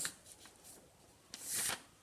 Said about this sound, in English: we're going to fold it along the line that we did down the middle of our paper